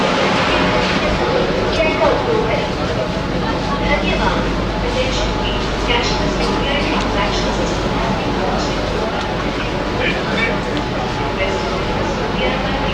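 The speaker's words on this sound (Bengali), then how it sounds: "আমরা এখন মেট্রোতে প্রবেশ করছি হাওড়া মেট্রো দুদিকেই খুলেছে দরজা" Interior of the Howrah underwater metro train with doors open on both sides, a loud steady rumble and hum of the carriage with crowd murmur and a voice talking over it.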